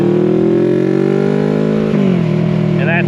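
CFMoto 650NK motorcycle fitted with an aftermarket exhaust, loud and close, holding a steady rising drone before a brief blip and second rise in revs.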